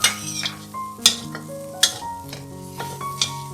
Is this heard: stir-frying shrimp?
yes